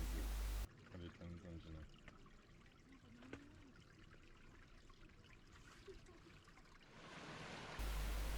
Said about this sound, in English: Here the stream from Okunoyu mixes with some fresh water.